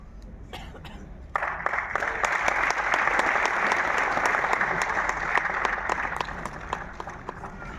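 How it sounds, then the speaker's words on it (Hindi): Loud, sustained applause bursts from an audience at a formal Hindi-language event after a few scattered early claps, continuing dense and steady for several seconds with a cough or two mixed in. "आपसे आग्रह करता हूं कि जोरदार तालियां बजाकर आपका"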